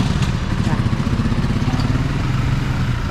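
A motorcycle engine chugs at a steady, close idle, its low rapid pulses continuous throughout.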